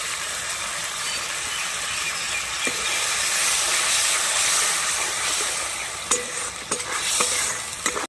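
Water hits a hot pan of Bengali fish curry with potatoes and mango kasundi, a steady loud sizzle and hiss rising midway, then sharp spoon scrapes and clinks toward the end.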